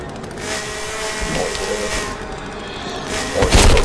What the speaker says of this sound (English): Oh, you can equip the chainsaw.